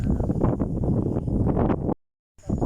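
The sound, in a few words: strong wind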